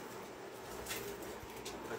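Soft rooftop pigeon coos murmur at a distance over a steady background hum, with no talking.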